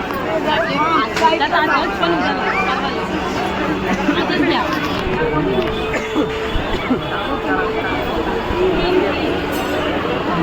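Dense crowd chatter at a packed Ganesh festival darshan in Kalachowki, with many overlapping voices forming a steady loud babble throughout and nearby talking mixed in.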